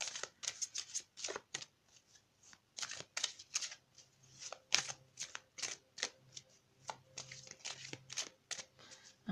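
Tarot cards shuffled by hand in a quick, irregular series of crisp riffling bursts and flicks, close and fairly quiet, with a faint steady hum underneath and no talking.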